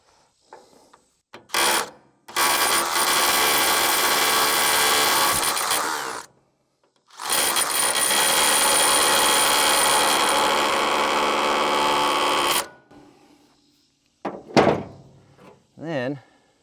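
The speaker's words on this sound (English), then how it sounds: "It's just a hammer drill with an SDS bit that I shaved the end off of there." Hammer drill fitted with an SDS bit buzzing against rusted hydraulic fittings, two loud sustained rattling bursts of several seconds each, close up, followed by quieter clanks and someone talking.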